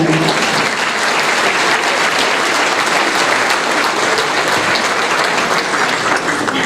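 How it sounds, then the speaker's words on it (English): An audience at an Arab American chamber event applauds volunteers and staff in a loud, sustained, dense round of clapping with no speech over it. "Please help me in giving our volunteers and staff a round of applause"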